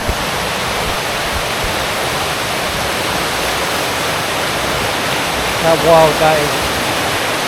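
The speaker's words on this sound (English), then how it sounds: "So it's been raining now for days consistently. Just hasn't stopped. Check the river out here," A swollen river rushing after days of nonstop rain makes a steady, loud broadband roar throughout, with a voice speaking briefly near the end.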